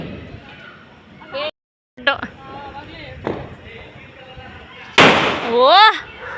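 Diwali firecrackers at a family home go off in several sharp bursts, a loud broadband crack near the five-second mark, with people talking and exclaiming between the blasts.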